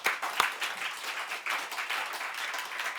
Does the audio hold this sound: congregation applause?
yes